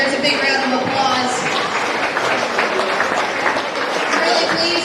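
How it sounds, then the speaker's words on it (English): Sustained clapping from a county fair crowd rewards swine show winners, a dense, even wash of applause that holds at a steady level throughout, with voices mixed faintly beneath it. "Let's give all of our Pen of 3 winners a big round of applause"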